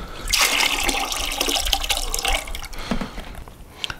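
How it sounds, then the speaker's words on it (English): Water runs and splashes inside a 1-gallon plastic product bucket as it is rinsed out, a steady close trickle and slosh lasting several seconds with no talking. "So we're gonna triple rinse it."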